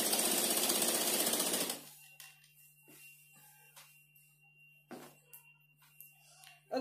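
An electric sewing machine runs a straight seam on a lehenga made from a blouse piece: a steady, close mechanical whir for under two seconds, then stops, leaving soft handling clicks and fabric rustles.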